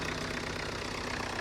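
A farm machine's engine, restarted after sitting unused for a year or more once a charged battery and repaired wiring are fitted, idles steadily and loudly with a continuous low rumble and faint knocking.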